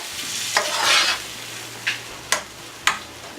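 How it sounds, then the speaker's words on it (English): Coconut being stirred into butter in a pan with a soft steady sizzle, broken by a few sharp scrapes and taps of the utensil against the pan. "Just mix it with the butter."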